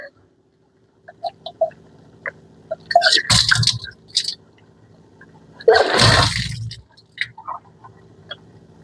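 Water expelled by deliberate vomiting during a yogic cleansing practice after drinking five to six glasses of water, with two loud gushing, retching bursts separated by quieter moments and small clicks and movements.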